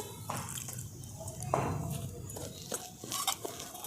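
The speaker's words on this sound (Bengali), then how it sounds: "একটু অল্প অল্প জল দিয়ে আমি একটা ব্যাটার তৈরি করে নিচ্ছি" Water trickling in small amounts into a semolina and potato dosa batter being mixed, soft intermittent drips and splashes with light clinks of utensils, close and quiet.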